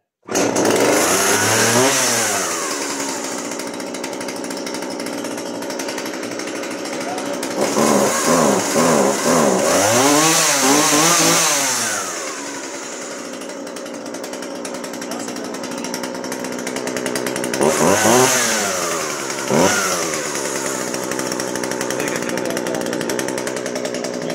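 A McCulloch petrol brush cutter engine runs loudly and steadily after three months without starting, revving up and down in several rising and falling surges, with someone talking over it.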